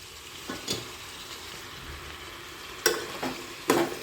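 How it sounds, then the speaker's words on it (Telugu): Tomatoes and drumsticks go into a sambar pot of softened bottle gourd, giving a few soft thuds and clatters at the start and a louder burst of clunks near the end over a steady low sizzle. "ఇప్పుడు నేను టమాటాలు, ములక్కాయ అయితే వేసేస్తున్నాను."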